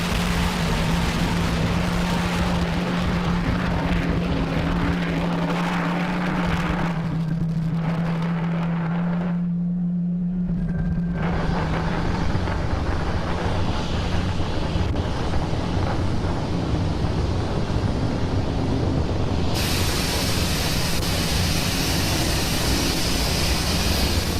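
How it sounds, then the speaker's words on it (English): SpaceX Falcon 9 rocket engines roar just after liftoff from pad 39A on a Starlink launch, April 22, 2020. A loud, continuous broadband rumble fills the whole stretch, wind-like and unbroken, with no talking. "As you can see, Falcon-9 has had a successful liftoff from pad 39A."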